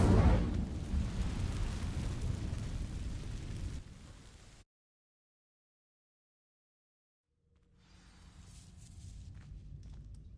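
An Incendio fire spell blasts in Hogwarts Legacy with a loud, roaring whoosh that fades over a few seconds, followed by silence and then a low rumbling ambience swelling back in.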